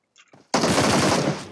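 A loud, rapid burst of automatic gunfire in the battle royale game PUBG Mobile, coming right after a brief soft shuffle and running about a second, with no talk over it.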